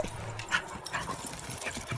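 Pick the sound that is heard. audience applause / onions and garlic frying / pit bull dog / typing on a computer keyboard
pit bull dog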